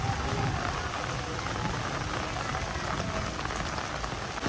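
Heavy rain pours down at a hilltop temple, a dense, loud, unbroken roar of drops striking surfaces close by, with no voices over it.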